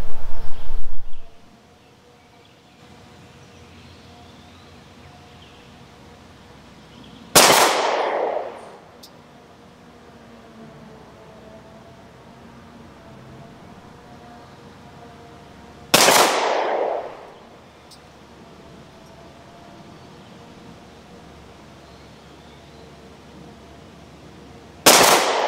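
A Rock Island Armory 10mm Ultra FS pistol fired one shot at a time, with four sharp, loud close cracks several seconds apart. Each crack carries a short echoing tail, and quiet gaps fall between the shots.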